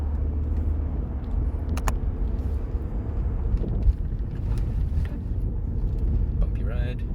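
A car driving along a bumpy road, heard as a steady, loud low rumble of engine and road noise inside the cabin, with occasional knocks and rattles from the bumps.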